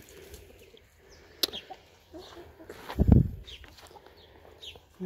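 A hen gives a few scattered clucks close by, with one louder, lower cluck near the middle among quiet farmyard noises.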